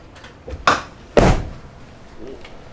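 A truck door clicks open, then shuts with a solid, heavy thunk, close by, followed by a brief rattle and quiet.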